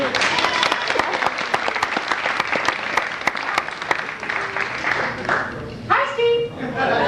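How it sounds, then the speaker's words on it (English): Audience applause after a cabaret act fills the room, steady dense clapping at a lively level with sharp individual claps standing out, fading slightly near the end as a voice and a brief tonal sound come in. "Applause for Arthur."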